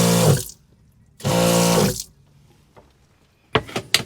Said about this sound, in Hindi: तो हम ये सिंक खोलते हैं और यहाँ से हम पानी यूज़ करेंगे, तो ये पंप ऑन हो गया और हमारा पानी आ गया।